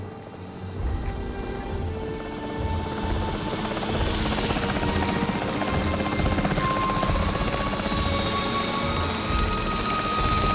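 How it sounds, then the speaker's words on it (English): Capture team helicopter in the video game Jurassic World Evolution 3, a steady loud rotor drone running throughout with a dense low rumble and no letup. "The priority needs to be tranquilizing it with the capture team chopper."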